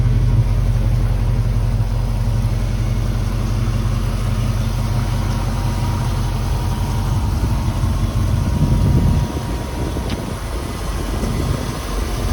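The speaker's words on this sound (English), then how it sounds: "The engine starts right up cold this morning." Loud, steady Ford F100 pickup truck engine idling close by after a cold start at about 33 degrees, a constant low rumble that drops slightly in level toward the end, with no voices.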